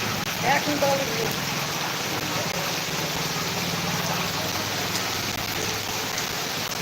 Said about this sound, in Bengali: বাম্পার বৃষ্টি হচ্ছে কিন্তু